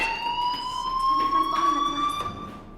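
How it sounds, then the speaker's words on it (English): A school fire alarm in the video game Life is Strange Remastered sounds steadily, a high electronic tone with rising sweeping harmonics that drone on continuously at moderate loudness, with faint background sounds beneath. "do you hear that fire alarm? That means you should be outside."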